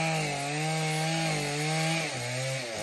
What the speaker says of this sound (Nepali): यहाँनिर चाहिँ दाउरा काट्ने मेसिन